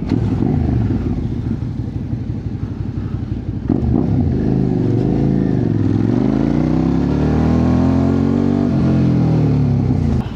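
Motorcycle engine revving hard to build momentum through deep mud, a loud mid-pitched drone that rises and falls in pitch with repeated throttle surges, close and continuous, without speech.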